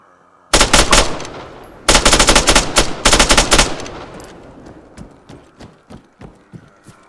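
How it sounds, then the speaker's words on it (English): Gunfire in the video game DayZ at Chernogorsk: two loud bursts of rapid automatic shots, followed by a run of slower, fading single shots, with no talk. "somebody's shooting in Chernogorsk"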